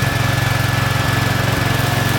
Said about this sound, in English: remote control lawn mower can climb steep slopes, bumpy mountains, and complex terrain.